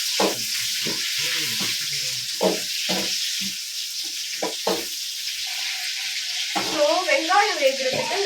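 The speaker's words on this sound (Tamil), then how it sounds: "வெங்காயம் போட்டிருக்கேன்." Onions sizzling in a hot pan for a country chicken curry, a steady bright hiss throughout with occasional stirring scrapes and knocks, and someone talking briefly near the end.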